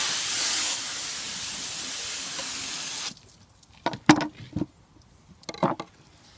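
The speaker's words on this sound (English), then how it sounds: "Wash this board off." Running water rinses a cutting board after an albacore tuna is filleted, a steady broadband wash for about three seconds that then cuts off, leaving a few sharp knocks and clatters from the board.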